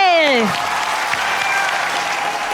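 A game-show studio audience breaks into steady, loud clapping right after a short descending musical sting. The applause carries on evenly close by.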